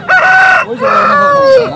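A rooster weighing over 3.5 kg at a Sunday poultry market in Nellore crows loudly and close by, one full call split into two long drawn-out parts.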